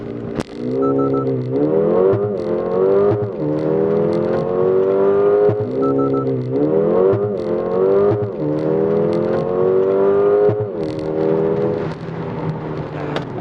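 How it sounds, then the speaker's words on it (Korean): A Mercedes-AMG A35 4Matic with a mild hybrid system accelerates hard through several gears. Each rising engine surge is cut short by a brief dip at the shift, loud and close from inside the car. "놀라운 가속입니다. 잘 달립니다."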